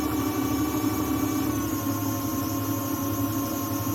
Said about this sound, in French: On va dire ici que je suis en train de faire tourner le moteur.